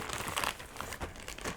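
Plastic packaging crinkles and rustles up close in short, busy bursts while a Fanatec McLaren GT3 V2 steering wheel is unboxed, with no voices.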